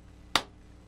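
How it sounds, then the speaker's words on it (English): A single sharp hand clap for syncing picture and sound rings out once, close and loud, against a quiet room background. "I have to clap in order to sync up the audio and the video"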